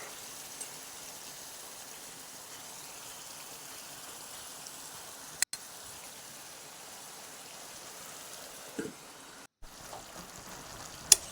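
A pot of local chicken curry, with hot water added, boiling steadily: a soft, continuous bubbling wash with a few faint pops and clicks, quiet and even throughout.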